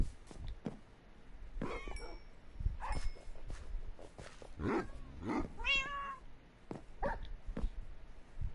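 Several cats in a Minecraft game meow repeatedly at close range, short wavering calls scattered across the stretch alongside soft footsteps and a few thumps.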